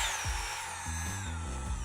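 A small corded rotary tool runs with a high motor whine whose pitch steps down through several speeds, from about 20,000 toward 5,000 RPM, close and moderately loud with no talk.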